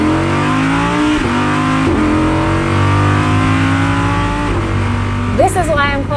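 A 2020 Audi R8 V10 Performance with its race mode engaged, the engine revving hard through rising and falling pitches in a loud, close, continuous roar, with a voice talking over it.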